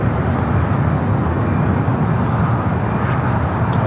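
A plane taxis along taxiway Bravo at LAX toward runway 25 right, its engines a steady, broad roar that stays even and fairly loud for the whole stretch, with no voices.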